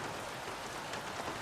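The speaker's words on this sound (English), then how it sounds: "Wow. The rain." Steady broadband hiss of heavy rain falling during a race in a racing video game, an even wash with no breaks and no talking.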